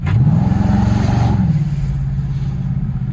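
A car engine revs hard in a short burst and its pitch rises, then it settles into a loud, steady growl close by. The car is likely an SRT Jeep or a BMW 335i.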